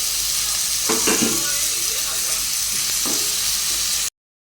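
Tomato with ginger and garlic paste frying in a pan, a loud, steady sizzle with a few scraping stirs of a utensil, cutting off abruptly near the end.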